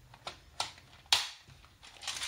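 A thimble pushing small pegs out of the back of a Happy Jig tool from We R Memory Keepers, giving a few sharp clicks and plastic crunches spaced apart, close and fairly quiet, with no voice.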